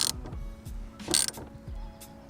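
A hex socket tightens the bolt on an Acuity Instruments short shifter, giving a few close metallic ratchet clicks and low mechanical knocks spaced over about two seconds, with no talking.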